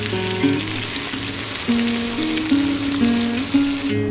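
Fresh-caught sea bream fillets pan-fry at a clifftop campsite, a steady, fairly loud sizzle running throughout beneath a melodic music track.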